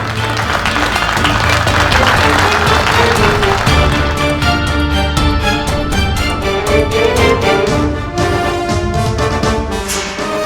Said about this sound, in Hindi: तो इनके लिए प्लीज जोरदार तालियां।